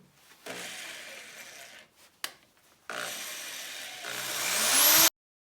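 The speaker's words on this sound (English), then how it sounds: "Not cutting on the knot is going to make this Forstner bit work just fine, I think." A Forstner bit bores into a wooden yarn bowl on a lathe, giving a loud, rising grinding whir that builds steadily for a couple of seconds before cutting off abruptly, after an earlier shorter burst and a sharp knock.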